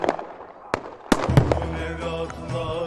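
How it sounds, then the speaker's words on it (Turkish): Heavy cannon blasts at a battle reenactment of the Tercan liberation in Erzincan, several sharp booming reports about half a second apart, loud and close, followed by rumbling crowd and ambient noise. "Top atışların içinde kaldık."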